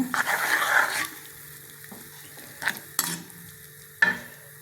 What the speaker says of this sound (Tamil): இப்போ நல்லா இதை கிண்டணுங்க